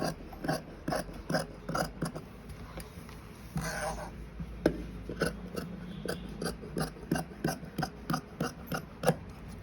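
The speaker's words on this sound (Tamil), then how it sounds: "இப்போ பாருங்கள், கை வெட்டுறேன்" Scissors snipping through blouse sleeve fabric, a series of short crisp cuts in an uneven rhythm, close and fairly quiet with a brief rustle partway through.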